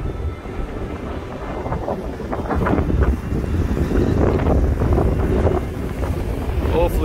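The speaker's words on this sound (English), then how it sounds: "Sorry for the wind" Strong wind roars across the microphone on a rocky coast near sea caves, a loud continuous buffeting rush that swells louder midway with no speech.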